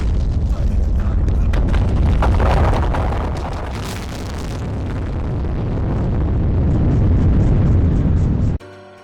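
A building collapses onto the player in a video game: a loud, sustained roaring rumble of crashing debris with bursts of impact that swell and fade before cutting off abruptly.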